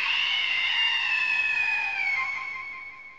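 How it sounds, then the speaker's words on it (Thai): A woman's long, high-pitched scream rings out in a horror video game set on a walk home, a single sustained cry that slowly fades over about three seconds. "ทำไมได้ยินเสียงเจ๊กรี๊ด"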